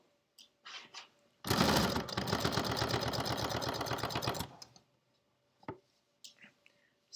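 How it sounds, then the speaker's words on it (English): A sewing machine stitches a pillowcase in one steady burst of rapid mechanical whirring lasting about three seconds, close and loud, with quiet handling noises before and after. "So I'm going to keep sewing, pulling out the pins as I go."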